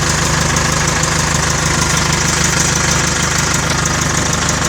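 A mechanical truck engine idles steadily in the cab with a constant low rumble and fine rhythmic knock, close and loud throughout with no talk.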